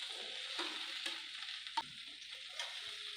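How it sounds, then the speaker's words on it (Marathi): Okra fries in hot oil in a heated kadhai, a soft continuous sizzle broken by occasional stirring scrapes, with no voices. "1 चमचा तेल टाकले मी। कढई आपली तापलेली आहे। ही भेंडी आपण याच्यामध्ये"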